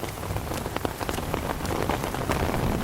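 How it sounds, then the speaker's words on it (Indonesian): Steady rain falls on a surface, a dense patter of close drops with no voices, continuous throughout. "Hujan-hujan begini."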